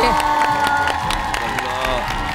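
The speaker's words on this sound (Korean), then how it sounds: "박수 한번 부탁드릴게요" A studio audience on a Korean TV singing show applauds and cheers loudly after a performance, dense clapping with shouts and whoops continuing throughout.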